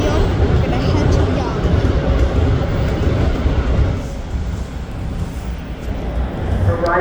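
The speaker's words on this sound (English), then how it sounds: "So we're arriving at Bloor Yonge subway station." A Toronto TTC subway train on Line 1/2 pulling into Bloor-Yonge station, a loud, steady rumble of wheels and rail noise that fills the whole stretch, with a faint murmur of passengers underneath.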